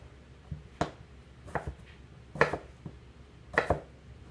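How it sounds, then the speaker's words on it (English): Potatoes cut in half and into wedges with a knife, a handful of distinct close thuds against a cutting board in irregular pairs, fairly quiet between chops, no talk. "So we're just going to cut them in half really easily and cut them into wedges"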